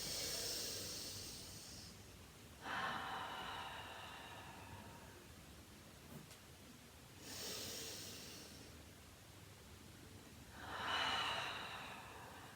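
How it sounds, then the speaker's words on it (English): Three energising breaths in a seated yoga cool-down, each a loud airy rush of breath through the nose with quieter gaps between, close and without talk. "let's just take 3 energising breaths."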